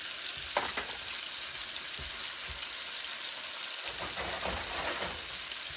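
Food frying on a barbecue griddle, a steady close sizzle and crackle that carries through the whole stretch with small pops and stirring scrapes.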